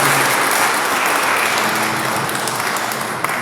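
A prayer congregation applauds, and the dense clapping of many hands holds steady for a few seconds, close and fairly loud, before easing slightly.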